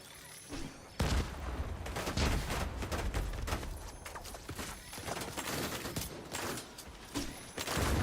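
Gunfire in The Division 2 video game, dense rapid shots rattling continuously for several seconds at moderate level, with a quiet gap before the burst begins.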